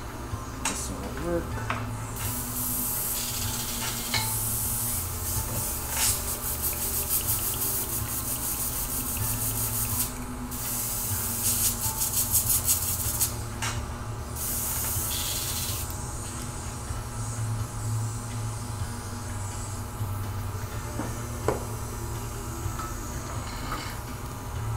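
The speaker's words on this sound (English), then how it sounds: "let me just get an airbrush to load some whites in." An airbrush sprays white paint onto an old portrait, giving a steady close hiss in repeated bursts, some long and some short, with faint talk and a soft mechanical hum in the background.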